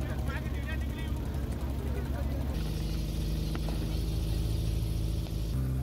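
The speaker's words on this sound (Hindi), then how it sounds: "तो अब मैं एक बोट राइड लेने वाला हूं" A motorboat engine drones steadily on a ride along the Varanasi ghats during Dev Deepawali, with a mid-clip shift to a louder hiss of water and wind, and voices faintly underneath.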